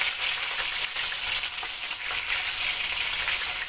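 Flour-coated chicken offal frying in hot oil, giving a steady, bright crackling sizzle close by with small pops throughout and no talk.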